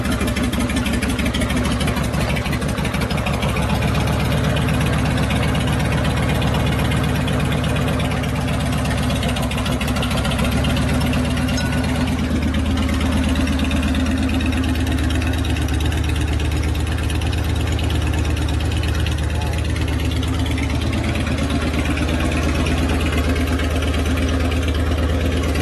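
Engine of a custom Harley Evo rigid chopper motorcycle idling steadily just after starting, a loud, continuous low rumble with an even lumpy pulse throughout, no talking over it.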